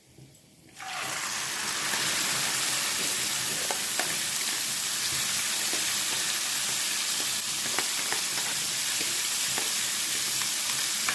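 Liver frying Alexandrian style on high heat, a loud broadband sizzle bursting in after a short quiet start and holding steady with small crackles and pops throughout, no talking.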